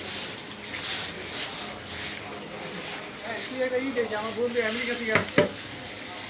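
Shrimp go into hot oil in a Bangladeshi fried-fish stall kitchen and fry with a steady loud sizzle, with stirring and a couple of sharp knocks near the end while people talk over it.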